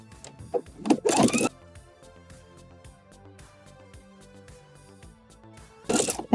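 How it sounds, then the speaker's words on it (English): A sewing machine runs a broken zigzag stitch along stretchy fabric with picot elastic, two short bursts of whirring separated by a quiet stretch with faint clicks and hum. "Now we're gonna flip it back and add our last row of broken zigzag stitches."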